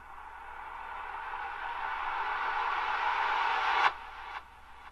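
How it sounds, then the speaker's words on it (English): A solo synth riser drenched in reverb and delay, a hissy swelling tone that climbs steadily in level for about four seconds, then cuts off abruptly, leaving a short echoing tail and a second fading repeat. "the only other thing I put in this beat was just this riser"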